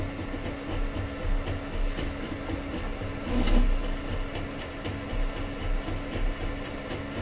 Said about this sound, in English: I'm printing a file that's already on the SD card.